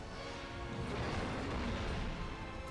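Deep, heavy hammer impact crushing an enemy in God of War 2, heard up close as a dense, crashing boom sustained across the moment with fiery game effects.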